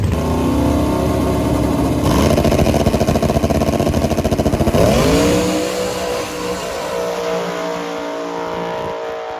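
Small tire drag race cars launch and race side by side during round one of Sunday morning eliminations, engines loud and revving hard near the start before the roar fades and shifts as they pull away down the strip.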